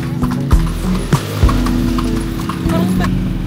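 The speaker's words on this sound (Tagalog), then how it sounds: "Tingin nyo rin yung kabayo." Horse hooves clip-clop on a street in Vigan, several distinct sharp strikes spaced irregularly over a rumbling background of wheels and traffic, close by and fairly loud.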